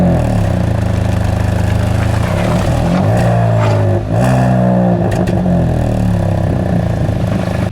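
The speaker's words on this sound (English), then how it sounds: "we need a good exhaust clip and start up" A 2022 Hyundai i20N hot hatchback starts up and its exhaust revs, a loud, close, steady engine note with rising and falling pitch sweeps from blips of the throttle, continuous throughout with no talking.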